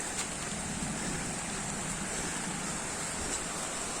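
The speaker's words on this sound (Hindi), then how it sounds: "पहले ऊपर से वाटरफॉल का व्यू देख लेते हैं।" Waterfall at Asurkhol in Keonjhar, heard as a constant broad rushing roar of falling water, steady and unbroken throughout with no other sounds standing out.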